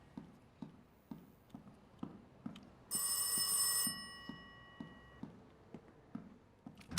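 A single bright, metallic telephone bell ring in a video game, lasting about a second, over a steady ticking clock-like rhythm that continues throughout.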